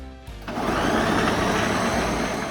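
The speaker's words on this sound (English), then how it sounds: "Let's blend that up." A blender whirs up curry powder, salt, pepper, thyme and lemon juice with ground meat for a country chicken loaf, starting after a brief quiet moment and then running as a steady, loud motor whine throughout.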